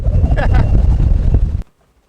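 Strong wind roars across a sailboat riding at anchor, buffeting the microphone with loud, rough gusts for a couple of seconds before the sound cuts off abruptly.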